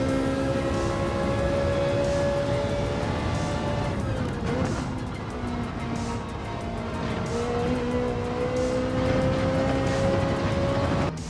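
Ferrari 458 engine in Gran Turismo 7 at Brands Hatch, a steady loud high-revving drone that climbs in pitch, dips briefly mid-clip, then rises again, with faint tire noise and no talk.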